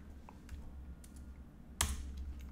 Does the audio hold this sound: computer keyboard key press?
yes